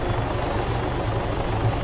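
A helicopter flies in the Arma game mode Altis Life, its steady low rotor thump and broad engine roar droning continuously and fairly loud with no talking.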